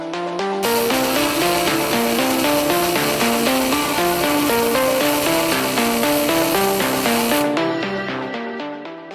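An Intellimig MIG welder welding gives a loud, continuous crackling hiss that lasts about seven seconds and then cuts off abruptly, with no talking.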